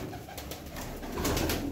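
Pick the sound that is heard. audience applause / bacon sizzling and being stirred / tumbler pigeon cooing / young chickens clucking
tumbler pigeon cooing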